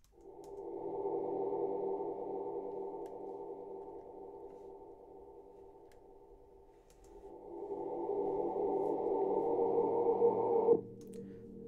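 A sustained synthesized choir-like pad made with stock Ableton plugins swells, fades back, then rises again before cutting off abruptly near the end, with no voices speaking.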